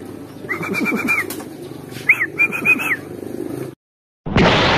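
Pigeons at a racing loft, with repeated cooing and whistle-like calls in short bursts over a murmuring background, then a sudden silence followed by a loud burst of noise.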